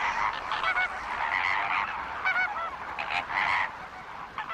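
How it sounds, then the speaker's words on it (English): A flock of flamingos gives loud, overlapping honking alarm calls in rapid bursts, close and busy, with no other sounds competing. "The birds use loud honking calls to activate the flock."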